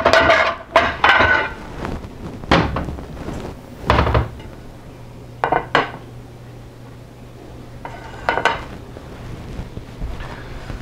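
Rice being plated beside meatloaf: scattered clinks and knocks of dishes, utensils and cupboard sounds, several sharp close hits separated by quieter pauses with a faint steady hum underneath.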